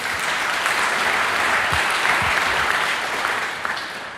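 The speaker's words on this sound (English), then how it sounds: "Give a round of applause to yourselves if you want." Steady applause from a CSSconf EU 2015 conference audience in a hall, dense and continuous, fading a little toward the end.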